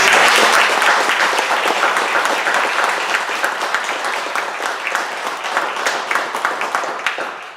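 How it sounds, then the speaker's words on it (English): An audience at an equality event applauds its speakers with loud, dense clapping that starts at full strength and slowly thins. "Let's have a round of applause for our speakers today."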